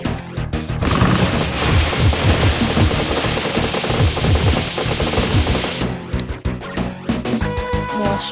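A minigun in the shooter game Serious Sam roars in a continuous, loud, rapid stream of shots with crashing impacts, easing off near the end into scattered bangs; no talking over it.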